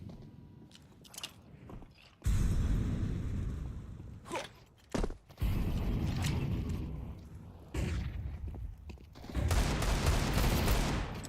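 Pistol and SMG gunfire in a competitive online shooter match, with bursts of rapid shots and heavy blasts separated by brief quiet gaps, loud and close.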